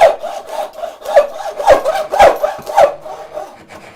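A hacksaw cuts down a wooden dovetail by hand, giving steady rasping strokes about every half second, close and fairly loud with no talking.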